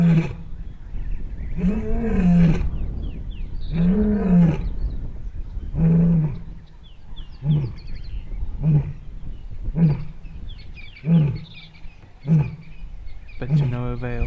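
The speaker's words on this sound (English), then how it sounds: "she starts to gently contact call, probing nearby areas to get a response" A lioness gives a series of loud contact calls, starting with long, low moaning roars and then shorter grunting calls repeated at a steady pace, close and with no voices.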